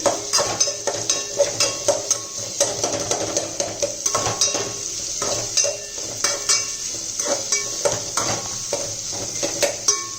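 Onions stir-frying on a high flame, with a soft sizzle and rhythmic clinks of a spatula against the pan repeating every half second, close up, no talk.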